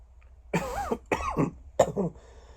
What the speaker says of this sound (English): I've been getting a cough back now.